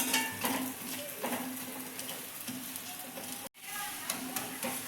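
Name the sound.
methi thepla frying with oil on a pan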